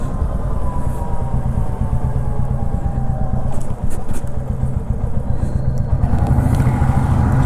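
A Royal Enfield motorcycle engine runs steadily at close range, a continuous low throb with faint shifts in pitch as it rides, alone without talk.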